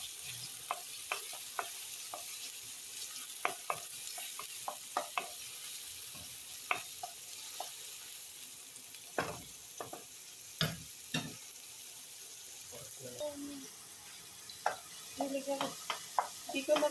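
Chili stir-fried in a pan, with a soft, steady sizzle under many scattered light taps and scrapes from stirring.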